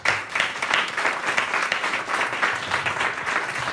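Audience at a book presentation of twelve Swiss books applauds the translators, a lively wash of clapping that swells and pulses steadily throughout.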